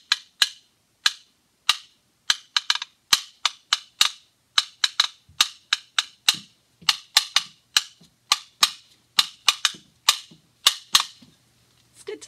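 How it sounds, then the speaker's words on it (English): Hollow wooden claves struck together in a steady series of sharp, bright clicks, loud and close, each hit short and dry with silence between, the pattern continuing for about a dozen seconds without talk. "Then they have wooden claves. They're hollow."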